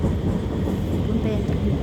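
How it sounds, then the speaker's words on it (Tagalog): A train passes nearby as a continuous, loud rumbling roar with a steady rolling noise through the whole moment. Speech may be mixed into the noise. "Kita nyo train, guys. Train yan."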